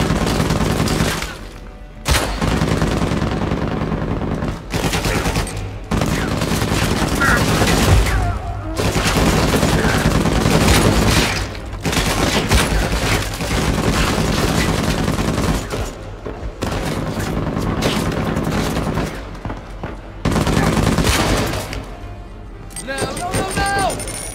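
Sniper and other gunfire in Uncharted 4 on PS4, loud bursts and shots repeating throughout amid game music and effects, with voices talking over the action.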